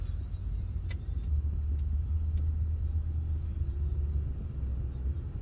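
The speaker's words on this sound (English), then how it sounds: "I was checking out the cars going by" Low rumble of cars passing on a road nearby, a steady wash of traffic with a few faint clicks and no voices.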